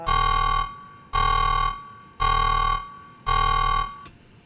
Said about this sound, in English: Sound the fuckboy alarm.